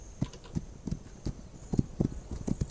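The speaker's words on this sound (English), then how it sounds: "Well, I got a horse." A horse's hooves clip-clop in a western-themed multiplayer video game, an uneven series of dull close thuds at a walking to trotting pace, fairly quiet with no talking over them.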